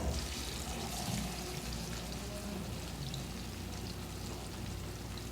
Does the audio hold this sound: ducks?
no